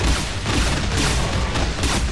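Rapid, dense explosions rumble from the Brutal Heretic RPG video game, a loud continuous barrage of booms with no pause across the brief stretch.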